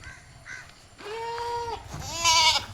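Goats at a farm where goats and cattle are kept for sale: two drawn-out, wavering bleats follow some softer earlier calls, fairly close and clear, with no talking.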